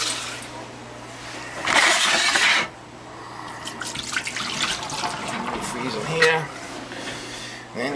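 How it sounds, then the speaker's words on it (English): Antifreeze poured into an emptied boiler baseboard heating system, giving two splashing, liquid-filling bursts about a second long, with low steady hum beneath and a person talking in between. "I'll add a little antifreeze in there."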